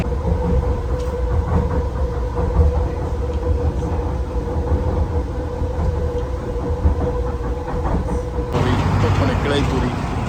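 A Vancouver Expo Line SkyTrain car rolls along with a loud, steady rumble and rhythmic rail clatter heard from inside throughout, with voices speaking over it near the end.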